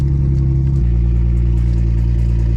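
A BMW 335i fitted with a big turbo cold-starts and settles into a loud, steady, rumbling idle close by, its pitch dropping slightly after the first second.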